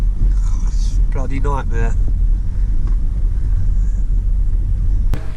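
A car drives down a steep hill toward a beach in Devon, producing a loud, steady low rumble with wind noise, while someone briefly speaks midway.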